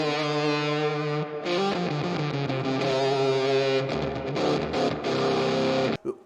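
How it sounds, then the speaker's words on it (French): A mini electric guitar played through fuzz and delay with a touch of reverb, giving loud, sustained distorted chords and melodic notes that ring on continuously for about six seconds before cutting off abruptly. "je vais mettre la fuzz et le delay"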